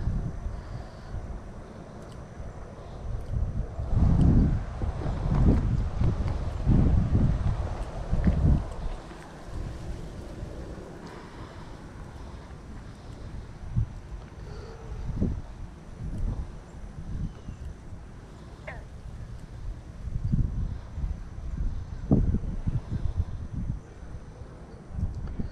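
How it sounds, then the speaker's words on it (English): Gusty wind buffets the microphone outdoors beside a stream during tenkara fly fishing, with rough low rumbling bursts rising and falling throughout and no talk. "damn wind."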